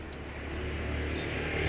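A car engine idles steadily with the thermostat removed while water is poured into the radiator. The hum is low and moderately faint, with a slight rise in noise toward the end.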